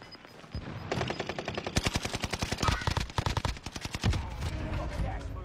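Loud, close rapid fire from an StG assault rifle in a video game, a near-continuous stream of shots running from about one second to past four seconds, with a brief voice underneath.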